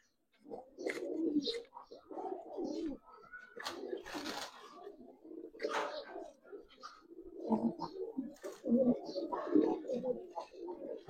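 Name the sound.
Giribaz pigeon cooing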